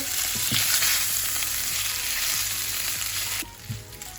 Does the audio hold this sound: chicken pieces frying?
yes